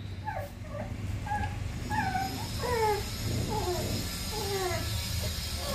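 Small merle pit monster puppies whimper and yip in a rapid, overlapping chorus of high cries while feeding, close and fairly loud over a low background rumble.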